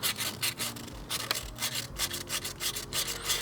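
Fine P240 sandpaper rubs back and forth over a machined engine surface during a VW TDI water pump and timing belt job, a steady close rasping of repeated strokes with no talking.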